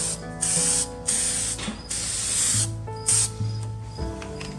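Meguiar's headlight coating is sprayed onto a car headlight in several short, loud hissing bursts with brief pauses between them, over a faint background hum and tones.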